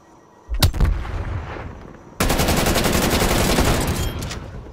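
Sentry turret fire in Call of Duty: Black Ops Cold War: a single sharp blast, then a long, loud, rapid burst of automatic shots in steady rhythm.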